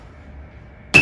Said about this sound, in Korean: 뿅망치 한 번씩 때리고